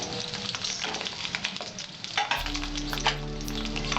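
Raw green banana pieces frying in oil in a wok, a steady close sizzle with crackling bursts and a low cooking hum running underneath, with no talking over it.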